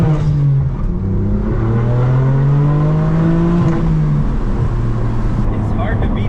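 A manual BMW M4 F82 with a loud exhaust, driven fast: a close, continuous, powerful engine note that climbs steadily as it accelerates through the gears, staying loud for the whole stretch.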